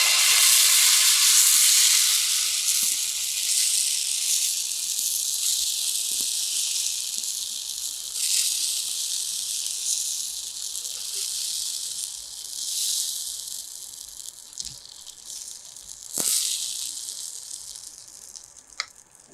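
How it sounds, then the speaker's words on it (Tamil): Mango adai batter, thick with vegetables, sizzles on a nonstick pan in a steady bright hiss that slowly softens over time, with a few faint clinks and taps and no talking. "இப்போ இந்த அடையை வந்து நம்ம ஊற்றலாம்."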